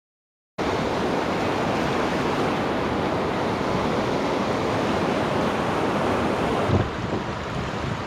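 Clear Creek in Alaska rushes over a shallow section as a steady, loud broadband wash of flowing water that starts abruptly and holds constant, with a brief knock near the end.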